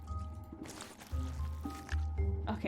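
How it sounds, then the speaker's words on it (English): Wet, squelching drips of grease in the video game Return to Monkey Island come in several thick, gloopy pulses over a low, steady game backdrop. "now it's dripping in grease"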